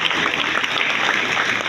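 Steady, dense applause from a church congregation fills the space evenly from start to finish, with no break or swell.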